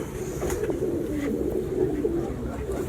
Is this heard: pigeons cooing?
yes